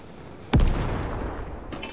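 A single sharp gunshot fired by a bot in Fortnite, loud and close, followed by a rumbling decay and a fainter second report near the end.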